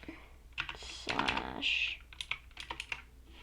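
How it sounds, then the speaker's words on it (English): Rapid clicking keystrokes on a computer keyboard while entering a Minecraft command, irregular bursts of close, crisp taps with a brief pause mid-sequence. "what you're gonna want to do is type in this command"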